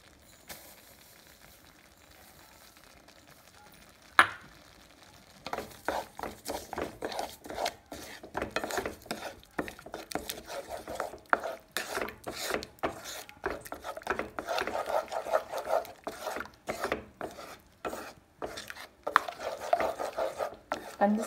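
Papaya and sugar mixture stirred in a pan as it thickens for papaya ladoo, giving soft repeated scraping and rubbing strokes with a light sizzle, starting after a quiet opening and continuing steadily.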